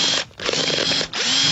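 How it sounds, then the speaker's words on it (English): A power drill whines steadily at close range for a project, briefly stopping twice before starting up again. "I was doing some drilling for a project or something"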